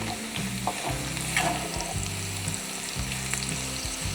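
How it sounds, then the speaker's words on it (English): Onion and garlic frying in butter in a pan for tomato soup, a steady close sizzle and crackle with occasional stirring scrapes throughout. "In some butter, I've put the onion"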